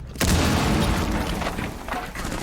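A loud, booming video game bomb explosion erupts after a brief quiet moment, followed by a sustained rumbling roar that slowly fades with crackling debris.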